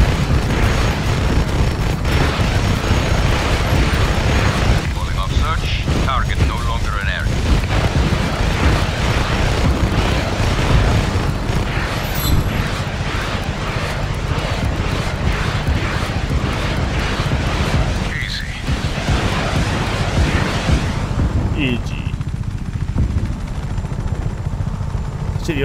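A helicopter in the game Just Cause 3 drones in a loud, constant rotor rumble with explosions and gunfire mixed in, dense and unbroken for the whole stretch.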